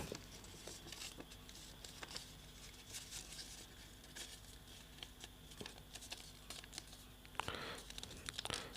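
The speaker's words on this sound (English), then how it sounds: "Let's fold it further." A sheet of paper is folded into triangles by hand, giving soft, close crinkles and rustles, with scattered small creases and a louder crumple near the end.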